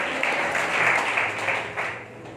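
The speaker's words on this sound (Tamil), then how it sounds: "விசுவாசிக்கிற ஆண்டவரோட பிள்ளைங்க நல்ல கைத்தட்டி ஆண்டவர் மகிமைப்படுத்துவார்." A church congregation at a Sunday service clapping along, dense steady applause filling the room with no break, fairly loud and close.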